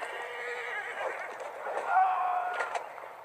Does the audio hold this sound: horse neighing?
yes